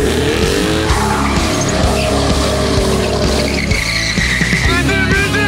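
A car's tires squeal and skid loudly during a tire test, a long rising screech with engine roar underneath that keeps going for several seconds and flutters near the end.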